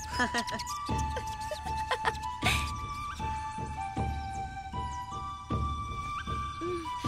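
Cartoon squirrels in an animated Pocahontas episode give high squeaks and chatter over music, with short repeated bursts and a few thumps. Someone speaks briefly.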